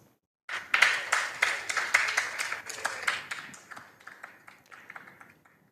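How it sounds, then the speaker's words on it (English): Audience applause for quiz contestants at a school quiz competition, a burst of clapping that starts suddenly, peaks early and slowly thins out over several seconds. "A round of applause for our contestants, please."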